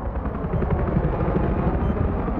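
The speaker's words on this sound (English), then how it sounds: "Oh, helicopter." A helicopter in a video game roars with a dense, steady rotor rumble, loud and close throughout, with no talking over it.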